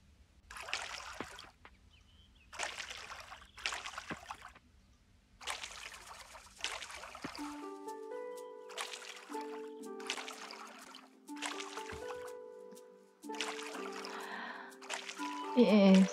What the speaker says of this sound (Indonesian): Kita siram dulu ya.